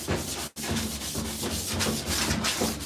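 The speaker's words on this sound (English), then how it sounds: "So I'm sanding it just to give the paint some tooth." A melamine furniture top is sanded by hand in steady back-and-forth strokes, a loud, close, continuous rasping rub with one brief pause near the start.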